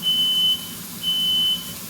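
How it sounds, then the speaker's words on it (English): Kitchen smoke alarm set off while a cheeseburger cooks, giving two long, steady high-pitched beeps separated by a short gap, loud over a low background hum. "There goes my freaking alarm."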